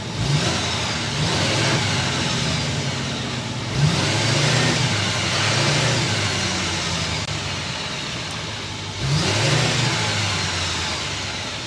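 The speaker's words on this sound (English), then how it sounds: "start up this turbo diesel so you can hear that exhaust" Exhaust of a 2023 GMC Sierra 2500HD AT4 pickup with a 6.6-liter Duramax turbo diesel V8, a continuous deep engine drone with a few swells as the revs rise, close and steady, with no voices.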